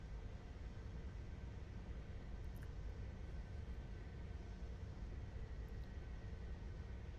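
An F-14 jet taxis at low throttle on a carrier deck in VRChat, its engine a steady, even low rumble and hiss that holds level from start to finish with no talking.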